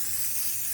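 Spray paint hissing from an aerosol can into the inside of a plastic bird box made from plastic waste, a steady close broadband hiss lasting under a second with no pause.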